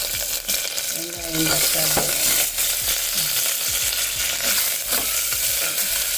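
Curry leaves dropped into hot oil for a tender jackfruit sothi: a loud, steady, close crackling sizzle that swells as the leaves go in and keeps going throughout, with faint stirring and no talk.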